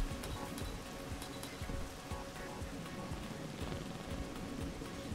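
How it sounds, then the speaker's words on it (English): Rain in the video game Rain World falls as a steady, dense patter on surfaces, a constant wash of drops at a moderate level, with no talking over it. "How is it raining inside?"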